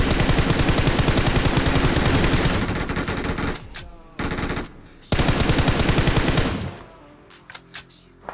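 Rapid automatic gunfire in the mobile battle royale game PUBG Mobile, loud, dense bursts filling several seconds, pausing briefly between volleys, then ending with a few scattered shots.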